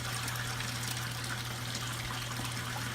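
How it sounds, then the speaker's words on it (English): Aquarium water gurgling and trickling through a drain hose during a water change, a steady continuous wash of liquid sound with a low hum underneath, no voices. "You might be able to hear it gurgling as the water level reaches the hose."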